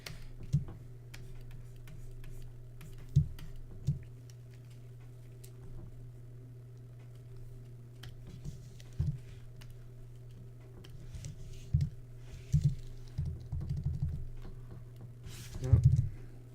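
A stylus pen clicks sharply against a tablet placed right beside the microphone, making irregular close taps with occasional quick clusters over a low steady hum.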